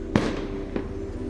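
Fireworks set off along a riverfront pop and crack twice in quick succession, fairly close and sharp, over a steady low hum of outdoor background noise.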